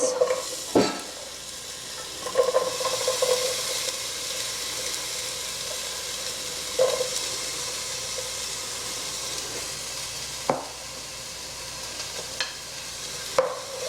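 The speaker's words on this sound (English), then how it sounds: "And then we're going to add about a cup of onions." About a cup of chopped onions sauté in avocado oil in a soup pot for golden lentil soup, a steady close sizzle and hiss broken by occasional scraping stirs, with no talking.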